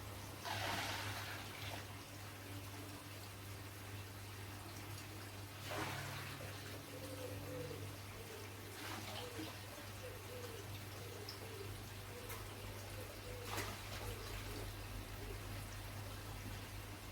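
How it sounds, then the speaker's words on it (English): Pond treatment liquid for flukes poured into garden pond water, a steady faint trickle and splash running continuously beneath a broad wash of outdoor water noise, no one speaking. "getting ready to pour it around the pond"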